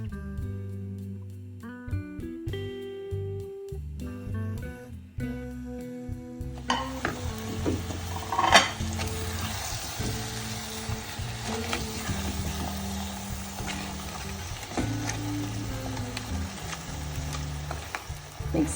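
Crab pieces drop into a hot pan of roasted coconut masala for crab roast, then sizzle loudly and continuously while a spoon scrapes and stirs against the pan, with a few sharp clatters, after a short stretch of quieter tonal sound.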